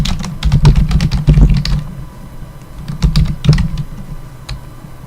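Code is typed on a computer keyboard in quick, close bursts of key clicks, with a short pause midway before another flurry of taps.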